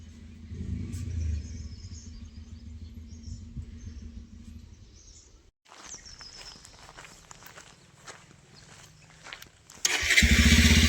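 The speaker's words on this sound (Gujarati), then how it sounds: "સુરેશે બાઈક કાઢી લીધી છે બારે" A motorcycle is pulled out and started at a rural village home, its engine catching abruptly near the end and running loudly after quieter shuffling and footsteps.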